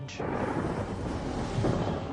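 A deep, sustained rumble of thunder rolling on for a couple of seconds, broad and heavy with no speech.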